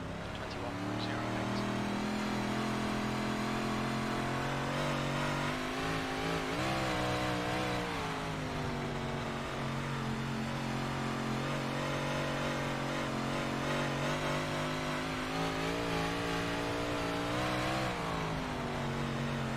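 V8 race cars lap a dirt track at a big dirt-racing event, engines droning and revving continuously as they pass, with a voice calling out spotter directions over the roar.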